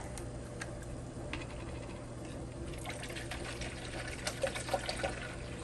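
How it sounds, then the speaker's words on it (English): Juice being poured into apple pie filling during home canning: a steady liquid pour with faint trickling, moderately quiet and continuous over several seconds, without any speech. "we're going to add 15 cups of our juices to this"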